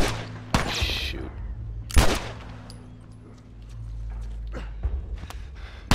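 Sharp gunshots ring out in The Last of Us video game, two loud close bangs followed by fainter scattered shots over a low ambient hum.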